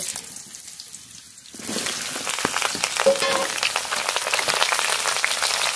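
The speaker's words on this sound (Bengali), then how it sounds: "আগে পটলটা তেলে ভেজে নেব, কড়াইতে সরষের তেল" Pointed gourd pieces dropped into hot mustard oil in a wok, a steady close crackling sizzle that swells suddenly after a quieter start and keeps spitting with small pops.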